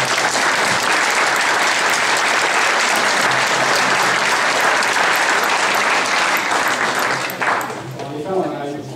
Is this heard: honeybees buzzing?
no